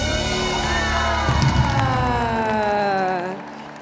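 A church congregation applauds and cheers during an evening family prayer service, a steady dense wash of clapping and voices that holds strongly for a few seconds and then begins to fade.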